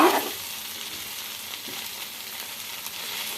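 Frying in a small amount of oil in a pan while okra tender-leaf curry cooks, a steady broadband sizzle that holds evenly for several seconds with a brief clatter at the start.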